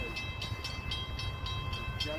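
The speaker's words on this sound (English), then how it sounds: "I see the train!" Train approaching at Greenfield Village on a spring day, a steady low rumble with a regular rhythmic clatter and a faint tonal ring, heard from a moderate distance.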